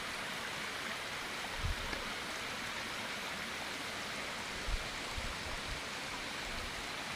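Water running in a small rural stream, a steady moderate hiss of flow with a few soft low bumps, heard fairly close and without speech.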